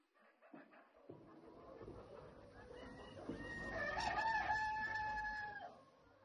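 A rooster crows and a hen clucks as a farmyard sound effect in a children's radio fairy-tale program, with the crow rising and holding strongly over scratchy background clucking before fading away.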